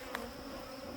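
Bees buzz around a beekeeper tending a hive, a dense, continuous droning hum, close and fairly soft, with no voices.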